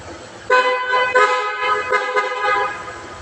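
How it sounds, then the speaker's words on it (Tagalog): A car horn honks in several short loud blasts, close by, with a low engine idle underneath. "Check natin ang busina. Kumusta ang busina?"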